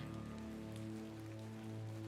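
Steady rain falls at night in the video game Hob's Barrow, a soft, continuous patter under a low hum of game music, with no talking.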